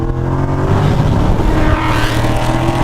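A Procharged 650-horsepower Ford Mustang GT with a supercharged Coyote V8 pulls hard in third gear, its engine note rising loud and close with a steady, climbing growl and supercharger whine.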